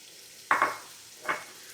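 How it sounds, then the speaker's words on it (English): Oblong round carrot pieces dropping into hot olive oil in a pan for hibachi-style cooking, two short loud sizzling bursts a moment apart that quickly fade back to quiet. "We just want to saute the carrots."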